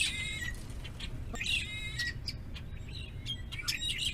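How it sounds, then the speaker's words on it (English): Red-winged blackbirds sing outdoors near an RV on a road trip toward Buffalo, bright chirps and trilled calls coming in short bursts over a steady background hiss. "Those are red-winged blackbirds."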